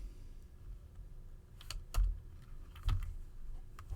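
Keystrokes on a computer keyboard while working in CAD software on a gasket part, a few sparse, faint clicks with two slightly louder taps, heard alone in a quiet room.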